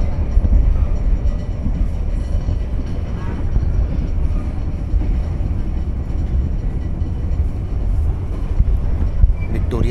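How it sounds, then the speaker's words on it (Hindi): Steady rumble of a passenger train running along rails on an Indian railway journey, loud and continuous low-end roar with rattling throughout, no speech. "देखो लेते हैं ट्रेन के सफ़र के मजे"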